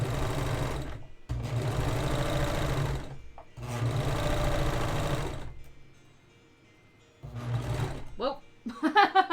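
Sewing machine stitching a petticoat in loud bursts, running several seconds at a time with brief pauses, then short stop-start runs near the end; close and dominant.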